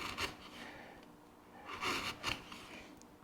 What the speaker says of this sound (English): If I use a chisel, however, you can see that we can make these nice tight,